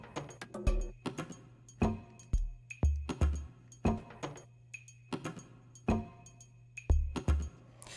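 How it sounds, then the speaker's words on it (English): Electronic drum pattern in a remix with added triangle and clave hits, crisp repeated percussive strikes over a low sustained bass tone in a steady groove, fairly quiet. "we add in this triangle and clave sound"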